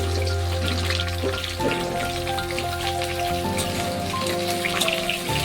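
Potatoes frying in hot oil in a pan on a gas stove make a steady, close, crackling sizzle like rain on a surface, continuous throughout and with no talking.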